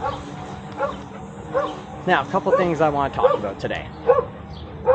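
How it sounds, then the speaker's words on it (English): A dog barks and yips in the background, several short sharp barks scattered under someone talking nearby. "Sorry about that barking dog."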